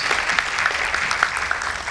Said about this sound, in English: Let's give an applause to Aakash.